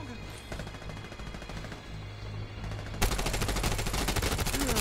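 Sustained automatic gunfire in The Division Resurgence mobile shooter, a dense rattling stream of shots that grows louder and harsher halfway through, with constant battle noise underneath.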